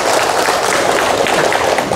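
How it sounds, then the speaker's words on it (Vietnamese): A loud, dense round of applause from an audience honoring cancer patients at a clinic discharge ceremony, steady clapping throughout with no pauses. "Chúng ta dành một tràng pháo tay thật lớn dành cho bệnh nhân."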